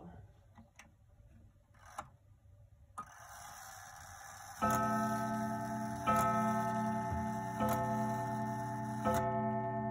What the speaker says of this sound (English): striking mantle clock made by the Ansonia Clock Co of New York